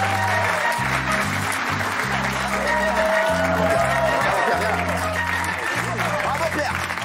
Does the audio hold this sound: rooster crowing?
no